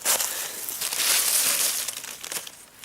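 Plastic bag crumpled and crinkled on a forest floor in autumn woods, a close, continuous rustling that swells in the middle and tapers off toward the end.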